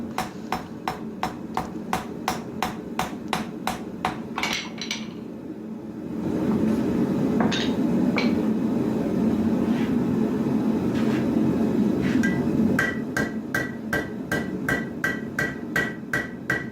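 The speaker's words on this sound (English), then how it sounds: "the peen of the hammer will push the material away from the peen" Sharp, regular hammer blows peen a steel knife blank during forging, ringing out in a steady rhythm, pausing briefly amid a low rumbling background before the strikes resume with bright, ringing overtones.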